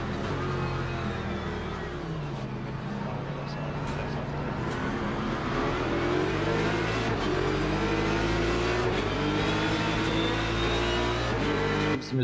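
A race car engine in the racing video game Rennsport, with a Mustang mentioned, revs continuously, its pitch climbing through gear changes at high, steady loudness, with a voice talking underneath.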